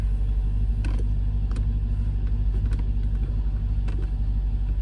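A Mercedes C55 AMG with its M113 V8 and a swapped-in six-speed manual rolls along on its first drive, a steady low engine rumble filling the cabin with a few faint creaks on top, no talk.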